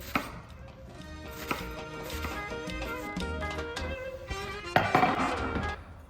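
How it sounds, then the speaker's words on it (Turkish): Onion being chopped with a knife on a board in a home kitchen, a steady run of close, crisp knocks with a brief louder flurry near the end, no talking. "Soğanı çox xırdalamayacağam bize biraz kavrulması lazımdı."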